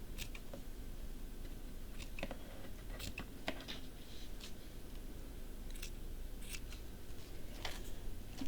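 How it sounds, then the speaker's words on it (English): Scissors snip through lace at a seamstress's worktable, a series of quiet, crisp clicks and cuts spaced irregularly over low room hiss. "Oh, I hope these scissors will cut lace."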